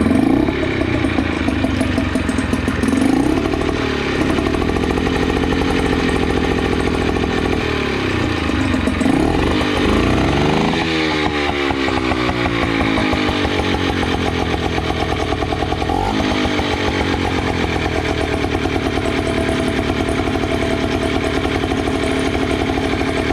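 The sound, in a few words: outboard motor running and idling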